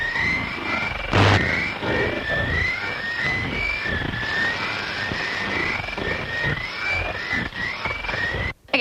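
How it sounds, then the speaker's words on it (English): Eerie radio broadcast of unknown origin, a continuous noisy transmission full of static with wavering, warbling tones drifting through it, steady and fairly loud throughout with one brief burst near the start and a sharp cutoff at the end. "what you're hearing is a broadcast of unknown origin that has been noted"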